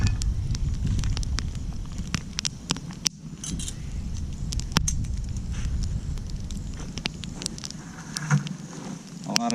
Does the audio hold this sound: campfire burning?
yes